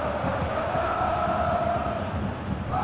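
A stadium crowd roars continuously in the football video game PES 2021, a dense sustained cheer with a steady tonal hum under it and no clear individual voices.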